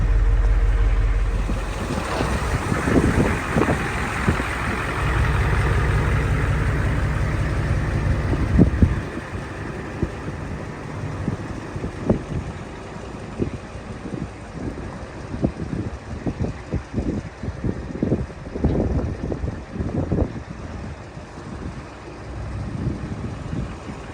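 A 1973 Ford F250 truck engine idling steadily in four-low gear, a low rumbling drone with bursts of wind buffeting the microphone early on, then uneven knocks and thumps as the truck is shifted and moves, with no talk over it.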